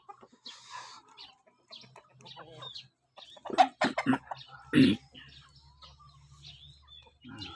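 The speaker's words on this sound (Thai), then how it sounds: "ไก่" Chickens clucking in short bursts, with a few louder squawks near the middle, over a low background hum and some faint voices.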